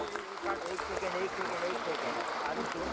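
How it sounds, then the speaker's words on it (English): An audience applauds at the Tata Motors listing ceremony at BSE, with steady, fairly loud clapping that continues under a voice speaking through the whole moment. "one more thunderous round of applause"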